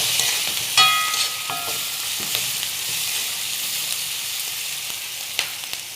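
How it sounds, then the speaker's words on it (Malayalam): Sliced onion, curry leaves and dried red chillies sizzle steadily in hot oil in a pan, a continuous bright crackle with a few sharper pops and clinks of stirring. "ഇപ്പോൾ നമ്മുടെ സവാള, വേപ്പില, ഉണക്കമുളക് എല്ലാം നല്ല പാകത്തിന് മൂത്ത് വന്നിട്ടുണ്ട്"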